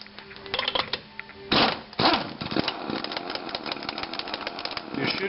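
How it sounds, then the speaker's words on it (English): An impact wrench loosening lug nuts on a Corvette wheel, heard close as rapid rattling hammering bursts, one big blast then stretches of slower, trigger-controlled chattering. "You should be able to control your impact wrench with the trigger."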